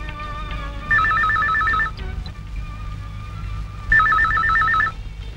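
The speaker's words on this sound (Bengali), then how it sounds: "ফোনটা ধর তো।" An electronic telephone ringtone trills loudly in two bursts of about a second each, separated by a quieter gap, over a low room hum in a home.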